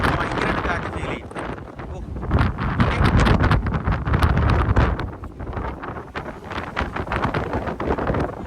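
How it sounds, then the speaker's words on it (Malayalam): Strong wind buffets the microphone at a corner of Carrigaholt Castle in County Clare, Ireland, a loud, continuous roar with gusty swells throughout. "ഏറ്റവും കൂടുതൽ കാറ്റടിക്കുന്നത് ഈ കോർണറിൽ നമുക്ക് ഭയങ്കരമായിട്ട് കാറ്റ് ഫീൽ ചെയ്യും"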